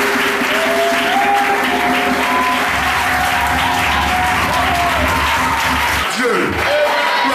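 A church congregation on a pastor's mission trip to Agnibilekro applauds in sustained, dense clapping with scattered shouts and cheers, and a voice speaks over it.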